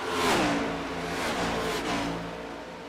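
Stock race cars from a full-length Cup Challenge slide job race run hard around the track on badly worn old tires, the engine note loud and steady with a sweeping pitch that falls and then holds as the pack roars by.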